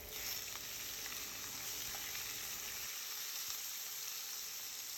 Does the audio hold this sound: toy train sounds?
no